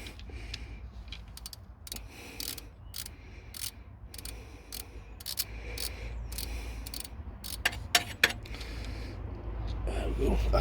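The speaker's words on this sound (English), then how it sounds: "Actually, I'll wind it on a couple of times with the ratchet." Ratchet winding a bolt on the water pump of a diesel P38 Range Rover: a run of sharp, rapid clicks in quick bursts, close up and moderately loud over a low background hum, with no talk.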